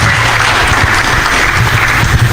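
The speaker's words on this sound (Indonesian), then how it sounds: "mari kita berikan aplaus yang meriah" An audience claps enthusiastically at a talk event in Indonesia, dense loud applause filling the moment without pause.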